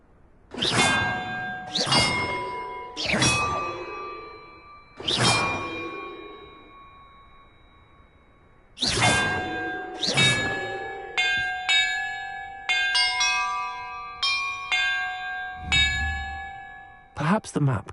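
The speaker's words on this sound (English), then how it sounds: "Perhaps the map contains clues about the order I'm supposed to ring the bells in." Bells are struck in a puzzle in the Hogwarts Legacy video game, each a loud metallic clang with a long ringing decay, sounding singly at first and then in a quicker run of overlapping chimes.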